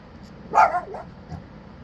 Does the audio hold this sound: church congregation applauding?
no